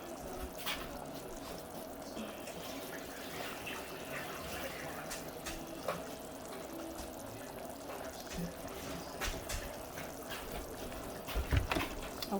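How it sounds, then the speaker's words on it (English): Water from soaking crabs is poured out in a continuous trickling, splashing stream, fairly quiet with faint background noise and occasional clunks. "I'm going to like pour out some of the water."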